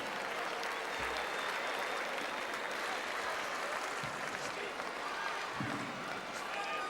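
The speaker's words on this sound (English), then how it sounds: "Ladies and gentlemen, can we have a big round of applause for Bill Palmer, the general manager of the" Audience applause in a basketball arena during a Perth Wildcats NBL event, dense continuous clapping with a few thuds and bounces under it, filling the space at a steady level.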